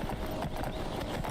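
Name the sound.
horse hooves galloping in the video game Skyrim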